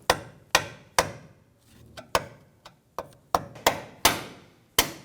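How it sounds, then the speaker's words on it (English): A hammer strikes a screwdriver to cut a steering rack bellow boot band on a 2017-2020 Hyundai Elantra, about a dozen sharp metallic taps at an irregular, quickening rhythm, close and clear. "then we just whack it with the hammer"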